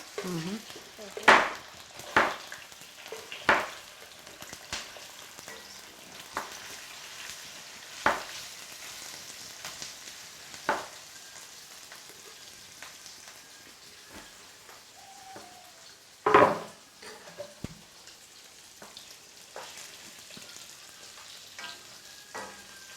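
Liver sizzles quietly in a frying pan at home, with a soft, steady frying hiss broken by a dozen sharp clacks and scrapes of a utensil stirring against the pan.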